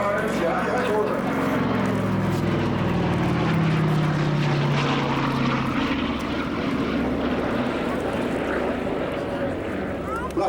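A Douglas DC-3 twin-engine propeller airliner drones steadily in flight, a loud continuous engine roar heard from close, as if from the cabin or nearby, with voices speaking over it.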